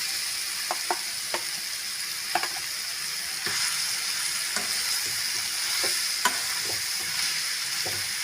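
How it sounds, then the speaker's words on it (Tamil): Grated raw mango being stirred into a sizzling mango thokku in a pan, steady frying hiss punctuated by sharp, irregular taps and scrapes of a spoon, close and clear, with no talk. "மாங்காய் சேர்த்துட்டு நல்லா கலந்து விட்டுக்கலாம்."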